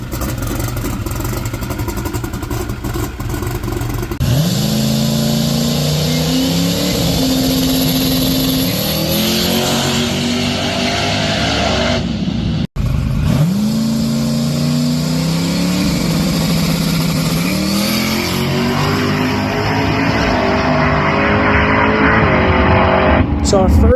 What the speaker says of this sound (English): I got the car running again, and it sounded pretty good